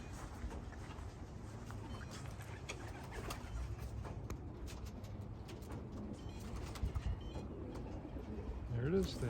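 Racing pigeons coo faintly amid steady outdoor background noise as a flock circles during an old-bird pigeon race, with soft wingbeats and calls spread through the clip and a brief whistle near the end.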